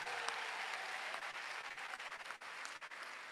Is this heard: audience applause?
yes